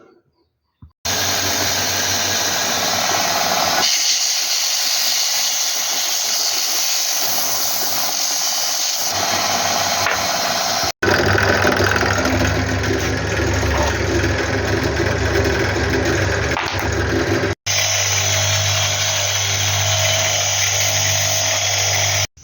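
A power grinder smoothing a piece of bone into a worry stone, a loud continuous whine and roar that runs for about twenty seconds, briefly cut twice.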